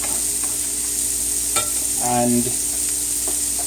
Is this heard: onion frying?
yes